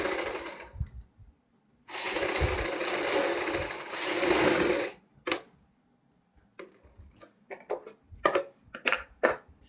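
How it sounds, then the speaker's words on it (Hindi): Sewing machine stitching a V-neck on fabric: a long steady whirring run, then several short bursts of stitching separated by pauses, close and clear with no talking. "ऊपर की साइड फिर हम एक पैर की सिलाई लगाएंगे।"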